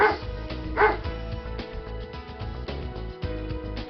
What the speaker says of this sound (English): Dog, young one, puppy, living place, kennel, cries of barks.